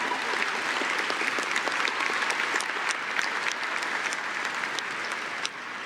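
Sustained applause from a large audience at a college graduation ceremony, dense and steady clapping that holds at an even level and tapers slightly at the end.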